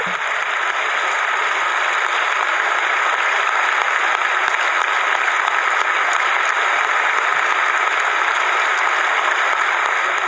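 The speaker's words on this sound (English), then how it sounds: "The Parliament clapped many times during his speech and even gave him a standing ovation." The European Parliament gives the Pope a standing ovation: steady, dense applause from a large chamber that holds at an even, loud level throughout, with no voices above it.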